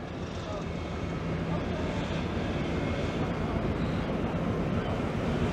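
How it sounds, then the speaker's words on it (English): Main engines of a ferry cast off on a river drone as the ship gets underway, a steady low rumble mixed with wind noise, with a voice faintly over it. "The main engines have fired, hence the foam."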